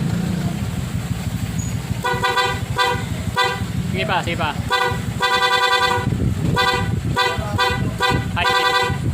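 An aftermarket PIAA car horn blares in a series of short, loud blasts and stuttering honks over a steady engine rumble, while someone speaks briefly.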